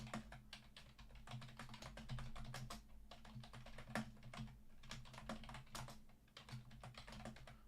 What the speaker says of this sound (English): Typing a lot of words is hard